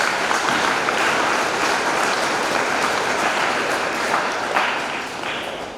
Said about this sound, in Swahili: Naomba tuwapigie makofi.